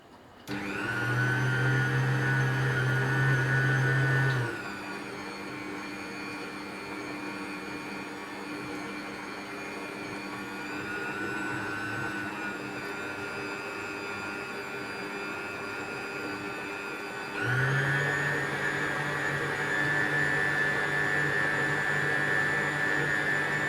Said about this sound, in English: This mixer actually auto speeds it, so you do not need to change the settings again and again